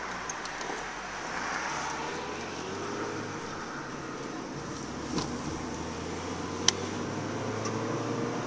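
Steady, muffled road noise from inside a car driving on a hot day, a constant low rumble with faint ticks and one sharp click near the end.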